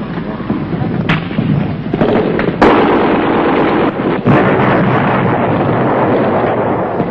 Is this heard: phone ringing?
no